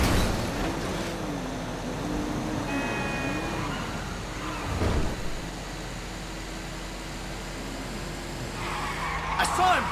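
Grand Theft Auto V car chase: engine drone with wavering pitch, bursts of skidding tires and a crunching impact, heard close beneath someone talking.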